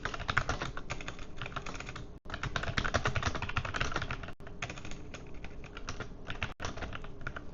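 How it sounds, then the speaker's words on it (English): Rapid, steady typing on a clicky tactile computer keyboard during a live gaming stream, close and continuous with dense overlapping keystrokes and a couple of brief pauses, no talking. "I like a tactile keyboard. I like a clicky-clacky keyboard."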